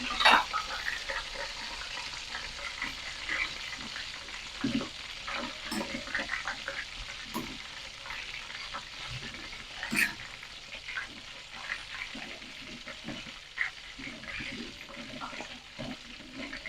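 Eggplant frying in a pan, a continuous crackling sizzle with scattered pops and bursts of spattering oil, occasionally stirred, steady and close throughout.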